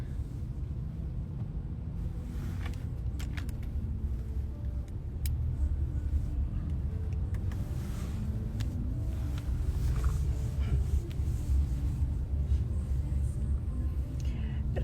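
Steady low road rumble of cars crawling in a traffic jam, a continuous engine and tyre drone with faint passing swells, heard from inside or beside the road with no talk over it.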